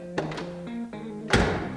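A single solid thunk of a 1965 Oldsmobile Cutlass F85 convertible's door shutting near the end, after a couple of lighter taps, with a low steady hum underneath.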